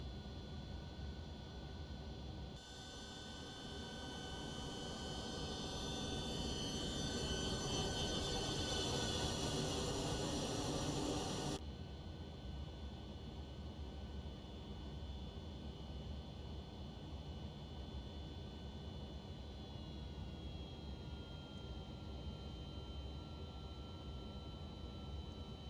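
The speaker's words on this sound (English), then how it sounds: "Okay, we're airborne" Simulated jet airliner climbing out after takeoff in X-Plane 12 from Cincinnati, a steady broad engine roar that swells for several seconds then settles into a quieter, even cabin drone.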